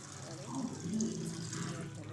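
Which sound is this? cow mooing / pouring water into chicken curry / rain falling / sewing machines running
pouring water into chicken curry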